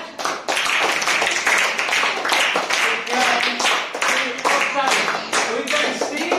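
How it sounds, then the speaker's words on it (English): Classroom children clapping for a student, a burst of many hands applauding together at close range, rapid and dense throughout, with voices mixed in. "Give her clap."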